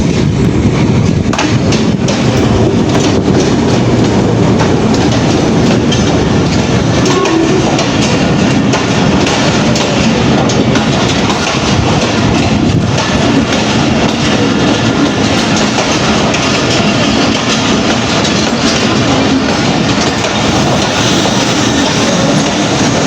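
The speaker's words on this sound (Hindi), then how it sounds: "ट्रेन आ चुकी है।" A train at Mianwali station rolls in loud and close, with continuous heavy rumbling, rhythmic clickety-clack of wheels over rail joints and faint squealing, sustained throughout with no talking.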